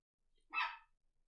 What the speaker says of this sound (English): Good job barking there, dog. Nope, stop barking, please.